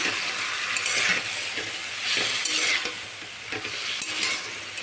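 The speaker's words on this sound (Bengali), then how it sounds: "এইভাবে একবার আলু পটল ভাজলে দেখবেন খেতে দারুণ লাগে।" Potato and pointed gourd pieces fry in a pan while being stirred, producing a continuous close sizzle broken by scraping and clanking of the utensil against the pan.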